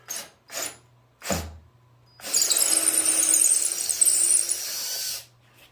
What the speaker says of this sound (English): drilled out all the way through the front leg